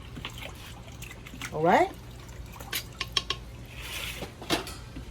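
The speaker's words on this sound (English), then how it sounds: "So I'm gonna take my big spoon here, stir it up." A big spoon stirring a crawfish boil pot outdoors, brief metallic scraping and clinking against the pot with faint sloshing liquid, a short loud swirl then lighter knocks; a voice speaks briefly.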